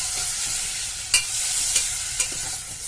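Onion and tomato pieces stirred in a hot pan for a creamy soup, giving a steady low sizzle with a few sharp scraping strokes of the spoon, close up and with no voices.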